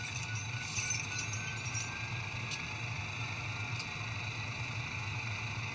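An ESU LokSound decoder in a model locomotive plays a diesel engine sound, a steady idling drone with a low throb and faint electronic hum, running alone at moderate volume.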